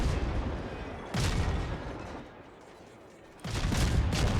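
Warship guns firing high-explosive shells in World of Warships, two loud booming salvos with rumbling tails separated by a quieter gap.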